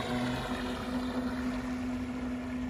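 A small electric motor on a GPS-autopilot RC fishing bait boat whirs steadily with a constant high tone, over a wash of water and outdoor noise.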